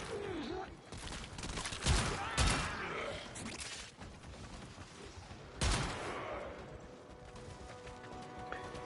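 Gunfire from a Warframe weapon crackles in bursts, with a few heavy booming shots standing out from busy game noise while someone talks over it.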